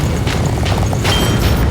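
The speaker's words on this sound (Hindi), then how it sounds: "ये असली फायरवर्क्स है, ना कि प्रॉप्स" Dense, continuous booming and crackling bursts, loud and close, like a string of fireworks going off without pause.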